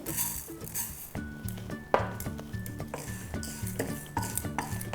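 Chana dal and urad dal roast in a hot pan as a spoon scrapes and clinks against the metal, stirring in quick, close, uneven taps with soft music playing underneath.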